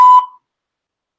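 A single short electronic beep sounds on a phone call as a voicemail greeting ends, then silence follows.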